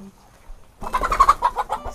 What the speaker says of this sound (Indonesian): Banyak ayam, oi.